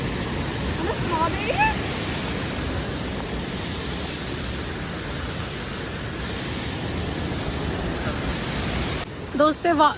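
Minoh waterfall near Osaka roars as a steady broadband rush of falling water throughout, with a few brief voices and bird-like chirps rising over it and the roar shifting near the end.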